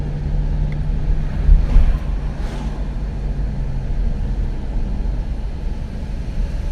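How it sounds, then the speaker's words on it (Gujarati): Steady wind gusts outdoors in Manali on a clear afternoon by an empty road, a loud, continuous rumbling rush with buffeting against the microphone and a couple of brief swells, no talking. "પવન ચાલી રહ્યો છે"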